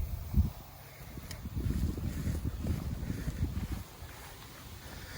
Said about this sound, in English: It is very hot, but very windy